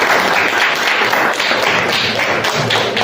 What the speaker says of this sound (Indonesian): aplaus buat temannya